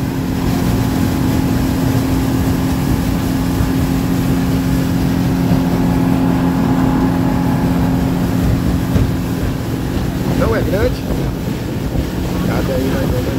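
A boat engine drones steadily on an Amazon river, a low, constant hum under heavy wind noise on the microphone, with people talking over it.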